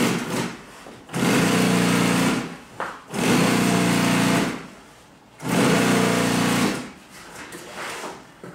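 An electric sewing machine top-stitches a fabric cockpit cover in three long loud runs of fast, steady whirring, with quieter handling pauses between bursts.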